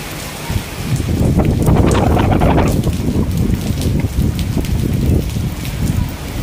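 Strong typhoon wind in Macau roars and buffets the microphone in loud, continuous gusts, with rain hissing underneath.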